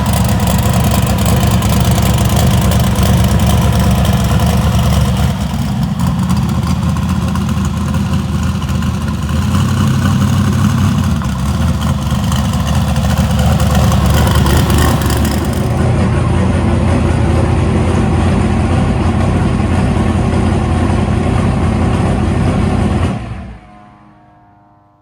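A newly built S-10 truck engine, running for the first time on its carburetor and ignition with a 16-volt battery, idles loudly and steadily with a deep low rumble and slight revs for over twenty seconds before cutting off abruptly.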